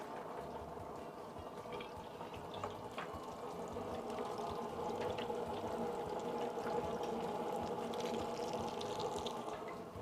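Watermelon Ciroc and lemon juice poured into a glass, heard as a steady, close liquid stream with a faint splashing rush that rises slightly and holds to the end, with no talk.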